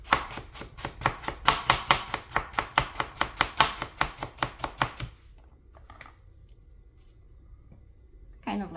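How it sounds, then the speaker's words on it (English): Knife slicing through apples on a cutting board for a Polish apple pie (szarlotka), a steady run of about twenty crisp, evenly spaced chops close up, then stopping into near quiet with a faint clatter at the end. "I have my apples cut up, and I want to show you how I do it. Just slice it"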